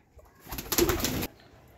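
A single soft, throaty pigeon coo rises and fades, close and clear against a quiet background.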